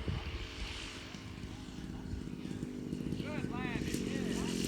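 A Hangar 9 Corsair RC model airplane comes in to land, its propeller engine droning and whining near the field as people talk over it.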